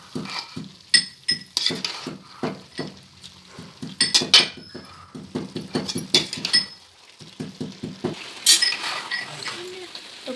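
Metal spoon clinks and scrapes repeatedly against a pan while drumstick masala is stirred with dry-ground coconut, a busy rhythmic clatter of close taps with a soft sizzle underneath.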